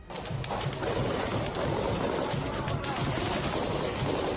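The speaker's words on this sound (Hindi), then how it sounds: "ये लड़ाके एक इमारत पर ताबड़तोड़ गोलियां बरसाते दिखाई दिए।" Dense, continuous rattling gunfire from Chechen fighters firing on a building in the Russia-Ukraine war, rapid overlapping shots in a constant roar, with distant voices barely audible beneath.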